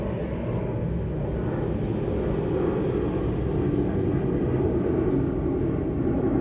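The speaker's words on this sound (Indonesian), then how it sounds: "Lagi ada pesawat" A steady low roar of an airplane passing overhead fills a home garden, continuous and fairly loud with no talking.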